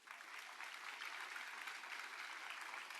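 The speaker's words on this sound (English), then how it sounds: "Give yourselves a big round of applause." Sustained applause from a crowd at the outdoor ribbon cutting for the LA Metro Regional Connector, a dense even wash of clapping, fairly distant and quiet, with no voices on top.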